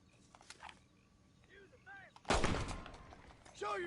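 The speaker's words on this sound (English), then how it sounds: "go with the volcanic pistol" A volcanic pistol fires in Red Dead Redemption, one sharp loud report partway through, with fainter game ambience and small effects before and after.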